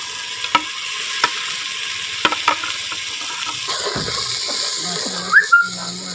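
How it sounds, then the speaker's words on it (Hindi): Spice masala of tomato paste, chillies and salt frying in a pan, a continuous sizzle with occasional stirring scrapes and small pops, close and fairly loud, with no talk. "ये मसाला अच्छे तरीके से भून के आपको मिलता है।"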